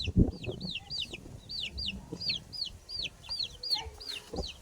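Chicks peep in a quick, repeated series of high cheeps close by, with low clucking and a few soft bumps underneath.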